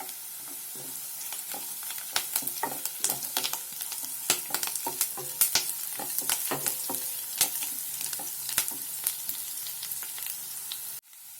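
Curry leaves crackling in hot oil in a home kitchen, a dense, steady sizzle with sharp scattered pops that runs continuously at close range and cuts off abruptly at the end, with no voices.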